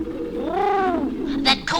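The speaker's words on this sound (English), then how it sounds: "That cooing means they want more." A soft, rising-and-falling coo from a nearby pigeon, followed by a couple of brief rustles.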